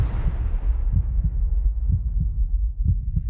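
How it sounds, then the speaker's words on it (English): A deep heartbeat sound effect from the 2008 Iron Man trailer pulses in steady double thumps, loud and booming, with low rumbling underneath and no speech. "Like a heartbeat sound effect, like boom boom"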